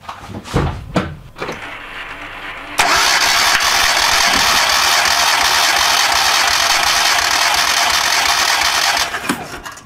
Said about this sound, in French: Maintenant j'actionne le démarreur et vous allez pouvoir lire la pression là-bas.